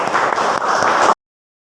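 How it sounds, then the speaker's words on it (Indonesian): Students in a classroom give a burst of hand clapping, dense and lively for about a second before it cuts off abruptly into silence. "Tepuk tangan untuk kita semua."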